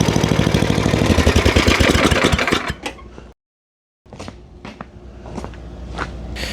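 Small Tecumseh snowblower engine runs loudly with a rapid chugging rhythm, cuts out into brief silence, then clanks and rattles follow.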